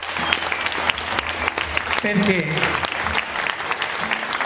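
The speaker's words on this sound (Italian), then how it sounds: "già farei un fortissimo applauso" An audience at an international guitar festival in Castrocielo applauds for guitarist Peter Cornacchia, a dense, continuous wash of clapping throughout, with a voice briefly speaking over it.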